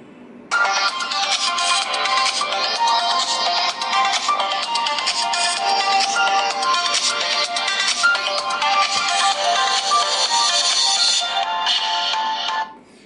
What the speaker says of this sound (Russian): давайте послушаем звучание основного динамика